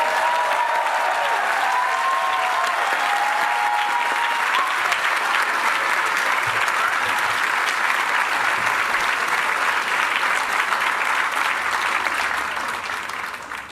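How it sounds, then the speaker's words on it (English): Sustained loud applause from a large crowd at an undergraduate commencement ceremony, steady clapping with scattered cheers and whistles, fading at the end. "Let's give them a round of applause."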